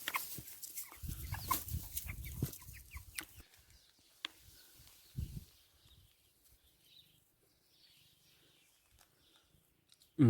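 Hens in a henhouse cluck in bursts up close at first, then the sounds thin out to faint scattered clucks and rustles.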